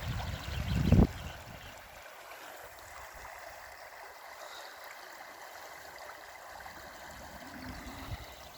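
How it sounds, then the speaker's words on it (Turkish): Tidal water flows back into a lake in Norway as a soft, steady rushing and trickling, faint and continuous, after a brief low rumble of handling noise at the start. "Şimdi su doluyor geri. Gölün içine."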